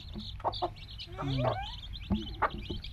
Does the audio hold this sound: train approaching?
no